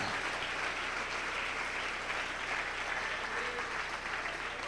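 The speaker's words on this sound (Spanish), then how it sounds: "Dale un aplauso al Señor" Steady, sustained applause from a church congregation during a sermon, a dense wash of clapping at even loudness throughout with no pauses.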